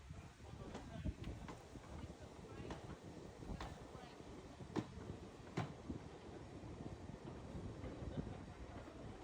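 The Ffestiniog Railway gravity train rolls along the track from Minffordd, a steady low rumble with periodic wheel clicks over rail joints under faint wind, and a voice is heard at times.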